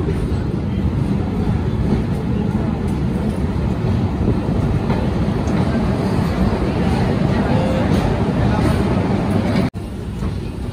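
Mathura Express train arriving at platform one of Izzatnagar station, a broad steady rumble of the train and station noise holding constant throughout, with a brief dropout near the end.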